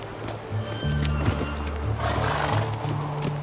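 Hooves of Roach, Geralt's horse in The Witcher 3, pound steadily in a gallop at close range, with game music and ambience underneath.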